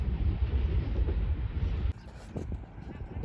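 A container train passes Gaddar railway station near Karachi at speed, a loud continuous rumble and rattle that drops abruptly partway through, leaving fainter clanks and rail noise.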